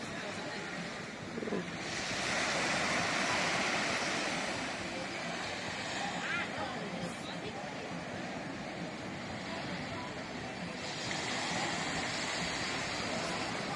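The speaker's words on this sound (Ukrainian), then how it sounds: "Таке сьогодні море у нас." Sea waves roll onto an empty beach in a continuous, fairly loud roar that swells and eases, with some wind buffeting the microphone.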